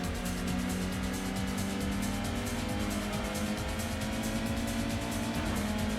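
A rear-wheel-drive Nissan Skyline races in Gran Turismo on the PS1, its engine a steady, dense drone with a buzzy high-revving whine and no voices over it.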